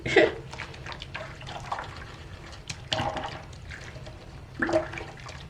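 Water runs and splashes from a tap while makeup brushes are rinsed, a steady rushing wash with louder surges near the start, around three seconds and near the end; no one speaks.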